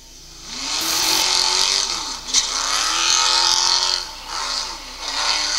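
A racing super truck engine on a victory lap roars loudly and steadily, with a pitch that rises, dips and rises again as the truck accelerates and eases off, close and sustained with no talk.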